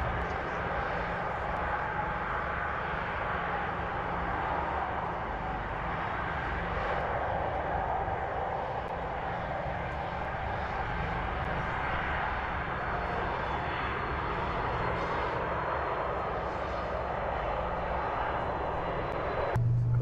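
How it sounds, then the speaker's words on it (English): Virgin Orbit's Cosmic Girl rolls down the runway for takeoff, its jet engines roaring in a sustained, broad drone that holds steady and loud throughout, heard from a distance. "Cosmic Girl is now on the runway taking off."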